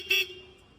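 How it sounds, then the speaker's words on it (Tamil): A Hero motorcycle's horn gives one short, loud, bright honk of about a tenth of a second, followed by a faint lingering tone and quiet background. "ஹார்ன் எப்படி சவுண்ட் வருதுன்னு பாருங்களா."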